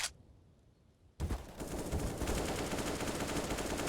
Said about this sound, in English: As a shot rings out